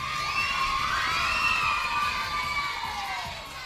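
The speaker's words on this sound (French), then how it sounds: "On applaudit notre gagnante, c'est Calencia qui a gagné." A crowd of children shouts and cheers loudly and continuously for a winner at a summer show, a dense wash of high voices that holds steady before easing slightly at the end.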